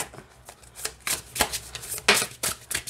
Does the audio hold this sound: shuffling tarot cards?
yes